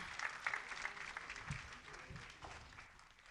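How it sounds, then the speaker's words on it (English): Audience applause at a university graduation ceremony, a steady wash of clapping from a large crowd heard at moderate distance, fairly quiet and fading slightly toward the end, with no talk over it. "Can we give her another round of applause, please? Another round of applause."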